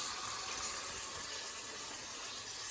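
Tap water runs steadily into a sink in a home kitchen while vegetables are washed, a soft even hiss with no voices over it.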